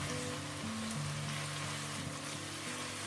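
Ingredients for anda keema fry in a pan, a steady dense sizzle and crackle that runs continuously without pause, close and moderately loud.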